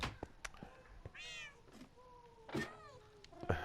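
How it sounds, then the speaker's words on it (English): Several cats meow in turn inside a room in a video game, a series of drawn-out rising and falling calls, some short and some longer, fairly close, with no talk. "This is the room where all the cats live."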